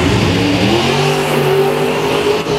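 A loud, continuous dragster engine roar from the All Things Chrome car, held steady and rising in pitch as it revs and accelerates, with no voices over it.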